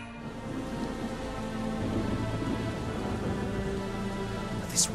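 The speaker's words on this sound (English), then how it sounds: "This rain is bullshit" Steady rain in the Valkyria Chronicles 4 video game, a constant moderate wash of falling water with a faint low rumble beneath and no voices.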